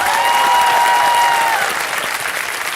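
An audience claps loudly and continuously, the applause strongest at first and easing slightly toward the end, with a faint tone running beneath it.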